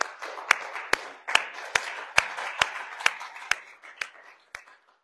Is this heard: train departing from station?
no